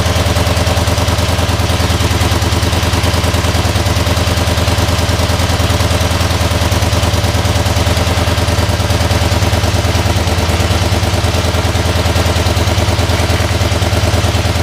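A V4 engine idles with the choke off and still cold, producing a loud, steady, close-up rumble with fast mechanical clatter that holds evenly throughout.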